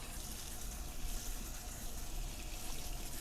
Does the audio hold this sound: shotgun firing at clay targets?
no